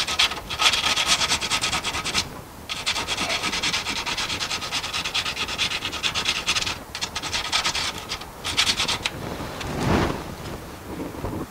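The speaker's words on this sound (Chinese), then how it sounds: "像这里稍微有点锈，可以拿砂纸稍微砂一下。" Sandpaper rubs rust off a car's body in rapid, rasping back-and-forth strokes, loud and close, pausing briefly a few times, with some wind buffeting the microphone.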